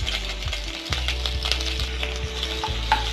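Ginger and garlic sautéing in hot oil, a steady close sizzle with repeated stirring scrapes and a few utensil taps over three seconds, no voices.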